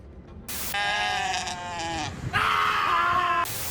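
A goat in the Starfield video game bleats twice, loud and close, each call a long wavering cry with a short gap between them.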